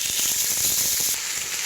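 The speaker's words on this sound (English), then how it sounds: "You want to sear the meat really, really good." Trimmed pork seasoned with salt and pepper sears in a hot pan over a fire, giving a close, steady sizzle and hiss with faint crackles and no voices.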